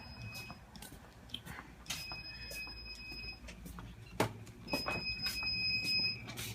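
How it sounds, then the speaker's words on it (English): A Leak Guardian leak alarm beeping on a factory floor, sounding as repeated high electronic beep tones at a steady interval, heard from a distance over low industrial hum and background noise. "we can hear a beeping in the distance"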